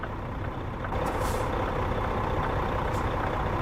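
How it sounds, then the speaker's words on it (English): A dump truck turns in American Truck Simulator, a loud, steady engine drone with a sharp hiss like an air brake release partway through and another brief hiss near the end. "Oh, we got a dump truck turning."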